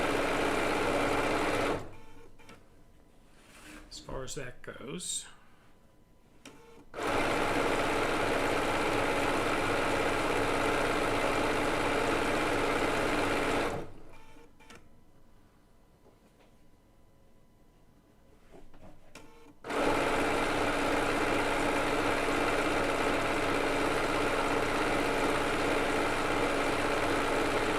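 A Bernina B990 sewing machine stitches decorative stitches on quilt binding in long steady runs, a loud mechanical whir that stops twice for quieter pauses with a brief spoken remark.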